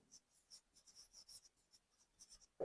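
Marker or chalk strokes scratching across a classroom board while an accounting depreciation lesson is written, a series of short soft squeaks and scrapes with pauses, ending in a louder bump.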